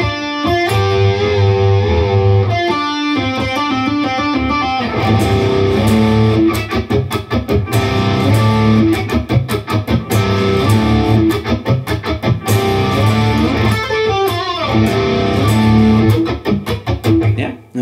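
Slow electric guitar riff, played alone on a distorted, effects-laden tone, with sustained chords and single-note runs ringing loud and steady throughout.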